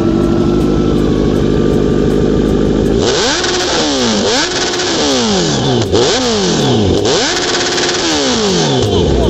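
A Kawasaki Z900 superbike engine idles with a steady rumble, then is revved hard in repeated rising and falling bursts. It is loud and close, with no talk.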